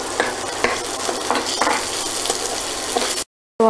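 Sliced onions sizzle and fry steadily in a pan with salt and green chilli, a continuous close crackle broken by a few scraping stirs, ending in a brief silence.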